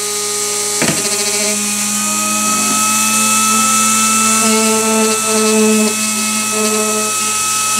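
A small magnetic window motor energizer spins at high speed while charging a battery, giving a steady high-pitched whine with a rubbing scrape and a few brief knocks.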